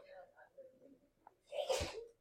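A single loud sneeze bursts out in a classroom during a math lesson, following a stretch of quiet, murmured talk.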